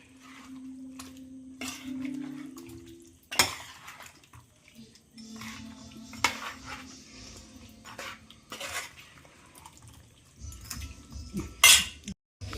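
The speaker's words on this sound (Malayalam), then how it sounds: "കറി നമ്മൾ വേറൊരു പാത്രത്തിലാക്കിയിട്ടുണ്ട്" Metal utensils and pots clink and scrape as chicken curry is moved from one pot into another vessel, with sharp knocks and clatters scattered through a fairly quiet home kitchen.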